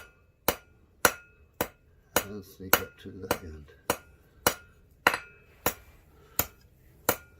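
Sharp metallic hammer blows on copper ring out at a steady, even pace, about a dozen strikes with the flat of the hammer, close by, with a quick flurry of lighter taps midway and a brief voice.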